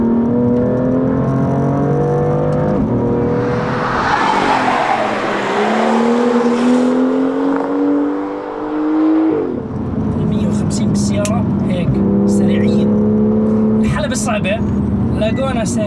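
BMW M2 (2016) sliding through corners on a race track, its engine droning and shifting pitch close by while tires squeal and skid, with someone talking over it throughout.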